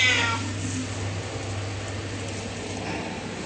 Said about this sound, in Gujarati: એક આ બિલાડી છે ને રોજ જ લેખમાં મારી સાથે આવે.